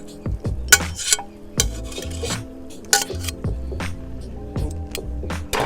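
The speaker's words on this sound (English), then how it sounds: "Now it is time to add in our pasta." Pasta being tipped into a pan of seafood crab sauce and stirred, with repeated clanking of utensil against pan, scraping and a low sizzle underneath, close and fairly loud.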